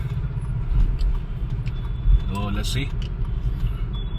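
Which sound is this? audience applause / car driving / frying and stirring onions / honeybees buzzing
car driving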